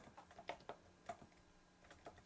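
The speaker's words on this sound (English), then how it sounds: "So I'm just typing Andre," Keys clack on a computer keyboard while names are entered for a Swift coding tutorial, a quick irregular run of light taps, quiet and close, with no voice over them.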